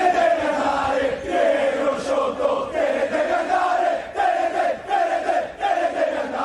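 Crowd of football supporters protesting against the club's ownership in a town square in Messina, chanting in unison with a rhythmic, repeated melodic line, loud and slightly distant, with swelling and dipping phrases.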